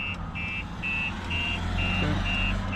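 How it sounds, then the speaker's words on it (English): A StarLine S96 alarm sounding on a 2022 Mercedes GLE, a steady series of evenly spaced high electronic beeps repeating with short gaps, over a low engine-like rumble. "Now if I open the door one more time, the alarm system is going to go off again."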